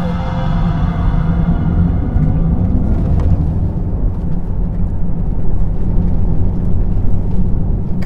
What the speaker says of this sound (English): let's do a launch control. I have it in Sport Plus, classic screen. I will hit the brake and the accelerator at the same time